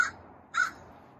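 Two harsh caws from a crow, near and distinct, separated by a short pause against a quiet outdoor background.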